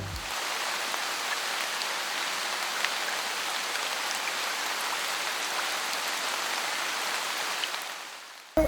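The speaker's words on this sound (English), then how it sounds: "It has begun raining very heavily since morning." Heavy rain pours steadily in Diglipur in the far north of the Andaman Islands, a dense, even hiss of drops on surfaces that carries on without a break.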